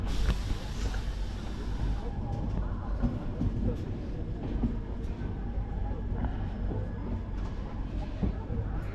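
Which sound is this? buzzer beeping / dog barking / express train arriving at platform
express train arriving at platform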